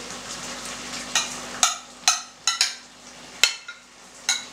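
Anchovies added to cooked rice in a frying pan, sizzling under a series of sharp clinks and scrapes from a utensil against the pan at irregular intervals, close and fairly loud.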